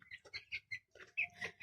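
Young hybrid chickens, 21 days old, clucking on a farm: a quick series of short, close clucks in an uneven rhythm with brief pauses, quiet overall, with no talk.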